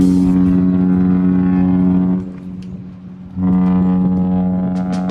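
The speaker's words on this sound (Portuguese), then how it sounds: "Essa buzina, quando os cruzeiros saem" A deep, loud cruise ship horn blasts in a long steady tone, cuts out briefly, then sounds again just as strongly, in Salvador.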